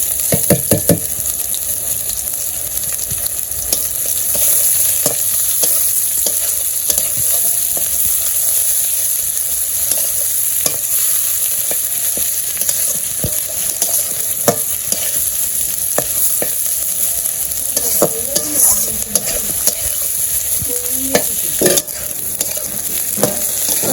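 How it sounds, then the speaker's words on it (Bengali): Pointed gourd frying with onion in a pan sizzles steadily and close, with a spatula stirring and scraping at intervals throughout, and no voices. "এই যে আমার পটল ভাজা প্রায় গেছে একটা পেঁয়াজ দিয়ে দিব পটল ভাজায়"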